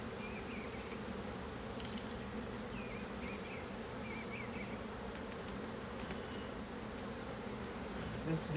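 Honey bees drone steadily in a dense, continuous buzz during a hive inspection, close and fairly quiet, with individual bees whining past now and then and no talk.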